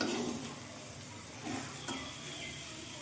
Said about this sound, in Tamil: இப்போது உப்பு சேர்த்து கிண்டி விடலாம்.